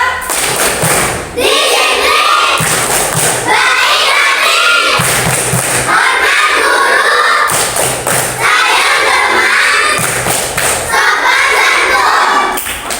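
A third-grade class claps and chants in unison, loud and close, in repeated rhythmic bursts of clapping and shouted voices separated by brief pauses.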